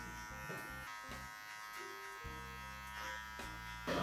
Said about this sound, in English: Bit of clipper overcomb, bit of classic barbering